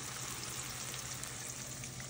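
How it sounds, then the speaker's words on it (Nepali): Chicken gizzards and liver frying with turmeric and salt in a pan, an even, faint, continuous sizzle with no voices. "नुन र बेसार हालिसकेपछि मजाले यसलाई ब्राउन हुनिन्जेल चाहिँ मजाले भुट्छु"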